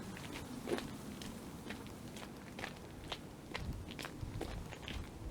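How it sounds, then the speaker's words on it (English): Footsteps crunching over road salt spread thickly on a winter sidewalk, a steady walking rhythm of gritty close crunches against faint outdoor ambience. "that crunching you hear is from the copious amounts of salt they've spread out onto the sidewalk"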